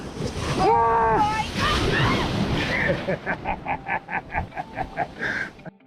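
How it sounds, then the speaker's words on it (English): Sea waves roll and break on a warm, choppy beach on Malaysia's east coast, a steady wash of surf with wind buffeting the microphone, while people talk and laugh close by over the water. "Some of these waves are massive."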